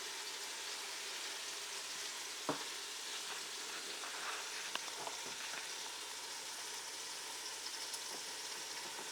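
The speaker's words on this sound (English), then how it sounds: "You may also hear in my pot over there, I have 1 pound of ground beef and 1 pound of sausage cooking in there." Ground beef and sausage sizzle steadily in a pot, a soft, even crackling hiss that carries on throughout, with a few light clicks and taps from the kitchen.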